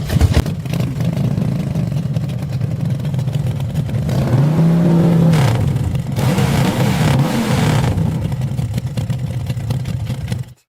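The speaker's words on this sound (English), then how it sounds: "turn off your bike engine so it's not revving all the time while you aim at the enemy" Motorbike engine revving in a tabletop wargame setting: loud continuous engine drone with rising and falling throttle sweeps through the middle, no talk.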